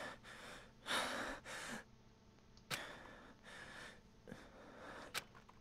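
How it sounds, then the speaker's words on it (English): Breathing sound effect from the Danganronpa Trigger Happy Havoc video game: a series of close, sharp gasping inhales and exhales in irregular rhythm, some heavy and some short, with quiet pauses between. "Breathing."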